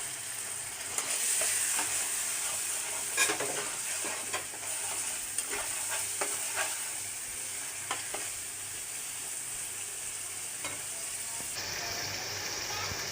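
Spice paste sizzles and fries in hot leftover fish oil in a pan, a steady broad hiss with intermittent stirring scrapes and pops, close and moderately loud, with no talking.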